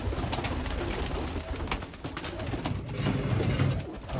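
Pigeons coo steadily and close by in a loft of Iraqi birds kept in Germany, with soft fluttering and rustling throughout and no talking.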